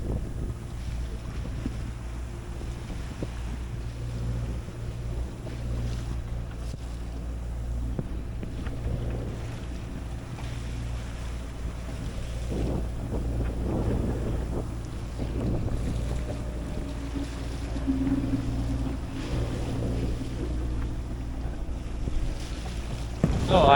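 A sailboat at sea on the Caribbean pushes against waves, a steady low rumble of water and hull with wind buffeting the microphone throughout, swelling slightly toward the end.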